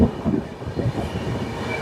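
A train rumbles steadily through a mountain pass in the Western Ghats during the monsoon, a dense low roar of wheels and cars holding even from start to finish, with no voices.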